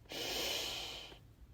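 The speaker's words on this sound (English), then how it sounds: "let's just take a breath again" A single deep breath, drawn in close and audible as one long airy rush that fades after about a second, with no talking.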